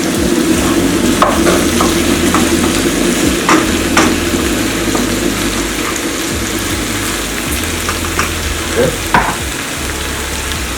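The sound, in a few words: stirring meat in a pot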